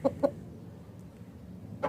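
An aseel rooster clucks close by, two quick clucks and then another after a short pause.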